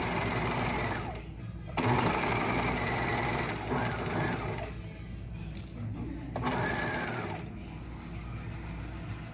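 A sewing machine stitches a French or flat felled seam in steady, whirring bursts, with short pauses around the two-second and six-second marks. The sound is close and fairly loud, with no talking.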